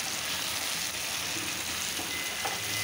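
Taro leaves and onion frying together in a pan make a steady, close sizzle that runs the whole time with no talk, with faint stirring scrapes now and then.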